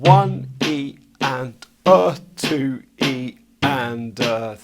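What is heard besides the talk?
No distinct noise like a dog, phone or traffic.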